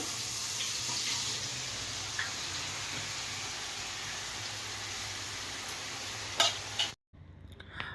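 Prawns dropped into hot oil for a prawn fry, a loud, close, steady hiss of sizzling that runs for about seven seconds, ends with a clatter, then cuts to a quieter sizzle.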